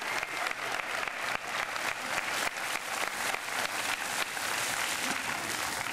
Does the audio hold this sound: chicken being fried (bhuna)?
no